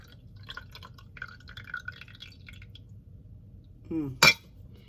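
Hibiscus herbal tea poured into a single cup, a short rising liquid splash near the end, preceded by faint clinking and light background sounds with no talk.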